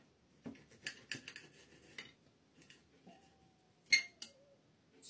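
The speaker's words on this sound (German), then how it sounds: "Schneiden wir mal da ein Stück ab." Knife and fork cutting a lamb chop on a plate at a Greek restaurant, soft scraping and sawing strokes with light clinks of cutlery on china, one sharper clink near the end, quiet and close.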